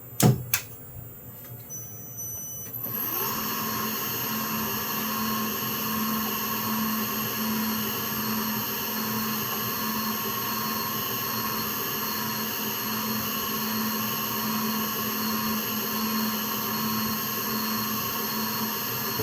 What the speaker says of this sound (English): Start the spindle.